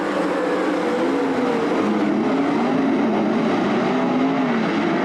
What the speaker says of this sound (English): now turns the car hard to the left, gets on the throttle and brings us back to the green flag